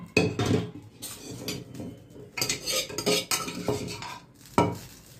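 A metal spoon scooping boiled dal from a pot, giving several close clinks and scrapes against the metal in short bursts with quiet gaps between.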